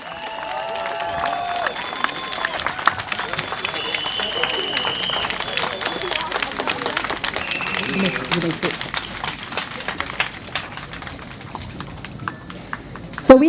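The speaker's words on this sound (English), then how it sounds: "One more round of applause for the candidates, please." A crowd at a political rally at Catholic High School applauds the candidates, a steady wash of clapping and scattered cheers running throughout, with voices in the mix.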